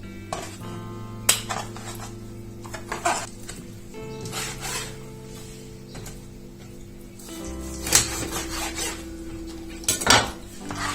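A knife chops chicken into small pieces on a board in a home kitchen. The cuts come as irregular taps and scrapes, with sharper knocks now and then, over a low steady kitchen hum.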